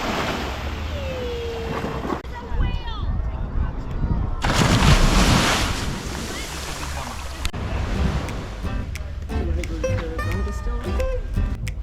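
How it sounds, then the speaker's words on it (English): Ocean waves wash over sand in the clear water of Cane Garden Bay, a loud, close rushing surf that swells and recedes in several surges, with wind buffeting the microphone. "The sound of the waves and the motion of the sand moving through the crystal clear water is musical to hear and to watch"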